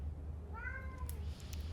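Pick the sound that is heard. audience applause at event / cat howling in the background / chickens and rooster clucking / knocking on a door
cat howling in the background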